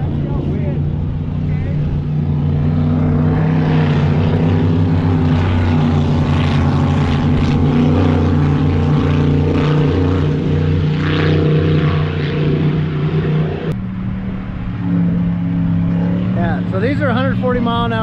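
Loud, steady engine roar of racing motorboats droning past, sustained and close, with a shift in pitch near the end as one pulls away; voices talk underneath.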